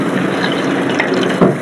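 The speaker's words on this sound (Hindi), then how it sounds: "इसके अंदर हम एक गिलास के अंदर पानी ऐड कर देंगे" Water from a glass poured onto half a cup of sugar in a pan to make sugar syrup, a steady close splashing pour lasting under two seconds with a brief louder splash near the end.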